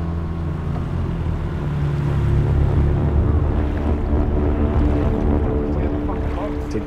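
Steady motorboat engine drone with water rushing against the hull, a constant loud rumble throughout.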